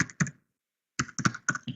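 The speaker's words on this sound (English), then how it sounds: "I presume you can all see that I'm typing here" Short bursts of typing on a computer keyboard during a webinar: a quick cluster of clicks, a pause, then a faster run of several crisp keystrokes, close and clear.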